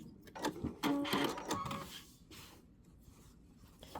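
A sewing machine stitches through layered quilt fabric in short bursts of mechanical whirring, close and fairly loud at first, then fading to quieter light handling noises.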